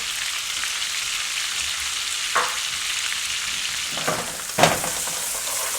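Lamb chops sizzle steadily in a pan with garlic and thyme, a constant broadband frying hiss with a few brief louder spits and utensil touches near the end, no voices.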